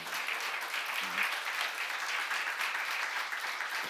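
A church congregation at a seminar applauds in a steady, distant wash of many hands clapping, even and sustained throughout without any one clap standing out.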